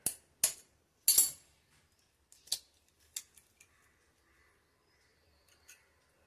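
Eggs are cracked one by one into a pan of curry: a handful of sharp, crisp taps and cracks, strongest at first and then fainter and more spaced out, heard close against a quiet background.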